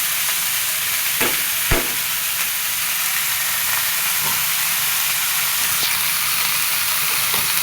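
Leafy greens frying in a hot pan with green chilies, a steady loud sizzle and hiss with a few sharp clicks of stirring, no voices.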